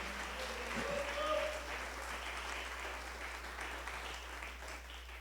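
Church congregation applauding during a sermon, a continuous wash of clapping that swells early and then holds steady, fairly close, with a brief voice at the start.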